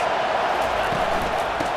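A stadium crowd in College Football 25 roars as a steady, dense wash of noise, loud and unbroken throughout, with no distinct voices standing out.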